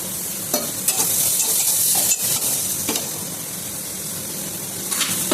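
Chopped onion with a little salt frying in a pan for a catla fish curry, a steady sizzle broken by several sharp scraping stirs of a spoon, close and fairly loud with no speech.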